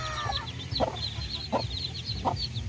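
A mother hen clucks softly in a few evenly spaced calls while her chicks peep in high, steady chirps around her, close and continuous over a low background hum.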